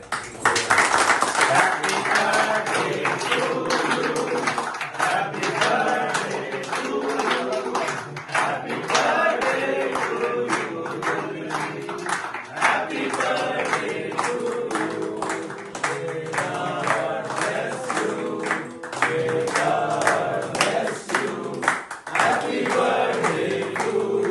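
Long stretch of audience clapping at a family gathering, rhythmic and fairly loud, with voices and other noises mixed in throughout.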